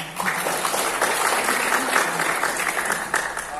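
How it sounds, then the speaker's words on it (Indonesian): Audience applause at an anti-drug student pledge and outreach event in Indonesia: a loud, sustained wash of many hands clapping together, dense and even throughout, with no talk standing out. "tepuk tangan untuk semuanya"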